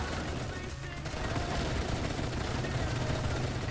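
Gunfire in the Assault Fire video game, a dense, continuous rattle of shots at moderate level under a faint voice.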